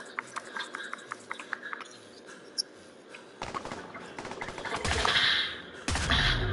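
Gunfire in a PS5 mystery horror game: a sparse run of sharp single shots, then louder, denser bursts that swell toward the end.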